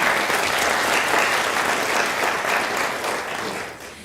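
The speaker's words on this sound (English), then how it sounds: "let's give a round of applause for our jurors" A lecture audience at a prize event gives the jurors a full round of applause, loud and sustained, then tapering off toward the end with no voices over it.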